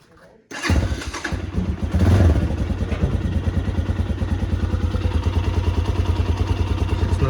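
Spark SP300T-1 motorcycle engine cranking and catching, then settling into a loud, rapid, steady putter close by, with people talking under it.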